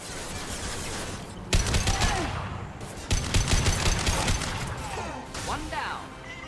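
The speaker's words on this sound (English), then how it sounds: "Let me respond to that by shooting the crap out of you." Gunfire in the Mass Effect 2 video game as a soldier shoots an enemy: loud bursts of rapid automatic shots in two main volleys, with combat clatter and occasional whooshes between them.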